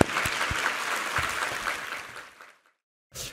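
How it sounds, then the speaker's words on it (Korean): A church congregation at a Sunday service applauds in praise, a dense wash of clapping that fades out near the end before a brief burst of sound returns. "우리 하나님께 감사와 영광의 박수 올려드리겠습니다"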